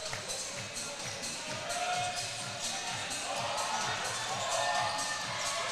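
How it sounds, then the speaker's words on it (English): A loud, boisterous Gold Coast crowd fills an indoor arena during a basketball grand final, with a steady wash of cheering and chatter and occasional ball bounces and squeaks beneath it. "Another loud, boisterous Gold Coast crowd here tonight as well."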